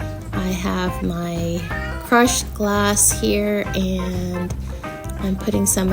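A house cat meows several times close up, its rising, wavering cries overlapping someone talking steadily over them.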